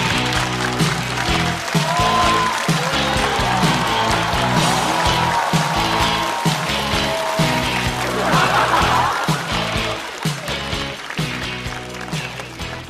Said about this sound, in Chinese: 让我们掌声欢迎季节性的脱口秀演员秋月